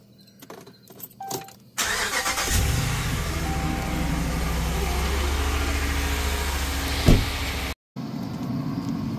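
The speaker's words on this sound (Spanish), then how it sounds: "Voy a andar la troca. Que se vaya calentando." A pickup truck engine cranks and catches after a few clicks, then settles into a steady, fairly loud idle nearby as it warms up on a morning of backyard rib grilling, with a brief revving bump before cutting off.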